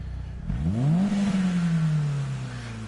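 BMW E30 M3 engine in a VR racing video game, revving up sharply then holding a steady high drone, loud and close with no talk.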